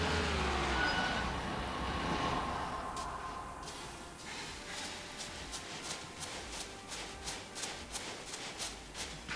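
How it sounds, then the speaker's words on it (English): A bullet train runs past in the Construction Simulator video game, a broad rushing rumble that swells and then fades, followed by a string of faint regular clicks. "Sounds like a bullet train going around."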